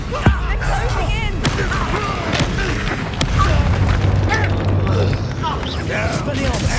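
Confringo blasting spell exploding in Hogwarts Legacy, a sharp boom amid chaotic combat noise and magical effects, with a voice shouting spell names over the fight.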